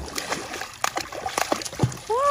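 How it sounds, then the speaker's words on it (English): A baby splashes in water, producing several short, irregular splatters at close range, with people talking and exclaiming around him. "splashed himself"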